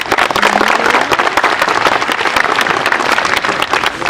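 Loud, dense applause from a crowd at a sheikh's celebration event, close and sustained, with many overlapping claps and no talk over it.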